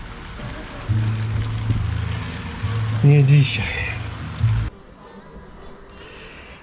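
Rain falls outdoors beside a garden pond under construction, a steady patter heard under someone talking, fading to a softer hiss near the end.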